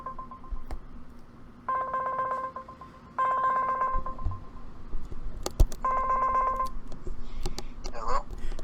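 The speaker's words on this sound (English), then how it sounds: "We are going to call him and put him on" A phone call rings out over a speakerphone during a live stream, three repeated electronic ring bursts with clicks and handling noise in between.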